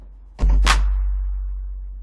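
A Battery 4 clap sample triggered in Cubase over a kick drum, a single sharp snappy hit with a quick double transient above a low sustained bass tone that keeps ringing underneath.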